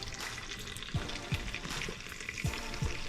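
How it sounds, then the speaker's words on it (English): Butter melts and sizzles in a pan for French onion soup, a constant close crackling hiss with a few faint low clinks, with no one speaking. "this is my little point of view of the butter melting"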